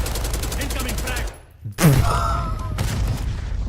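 Gunfire in a shooter video game, a dense rattling burst of automatic fire, a brief lull, then a loud boom and more shots, with a voice talking over the din.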